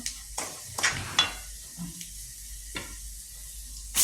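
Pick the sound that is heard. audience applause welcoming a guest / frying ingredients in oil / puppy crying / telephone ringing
frying ingredients in oil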